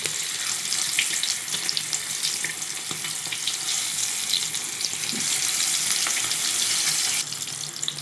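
An egg roll frying in oil gives a loud, continuous, close-up sizzle that stays dense and bubbling throughout, with no talk.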